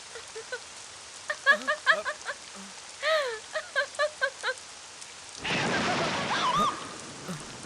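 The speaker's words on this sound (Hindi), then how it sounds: "इस तरह जब बिजली कड़कती है तो मुझे बहुत डर लगता है।" Chirping calls come first, then heavy rain suddenly pours in, a loud, dense hiss that continues to the end of a dramatic stormy film scene.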